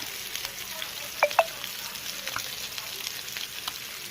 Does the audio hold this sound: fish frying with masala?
yes